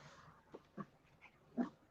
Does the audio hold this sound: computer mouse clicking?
no